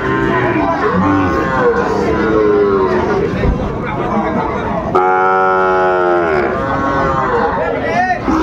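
Sahiwal cattle moo loudly and repeatedly at close range, long drawn-out lowing calls overlapping one another against a busy market crowd murmur.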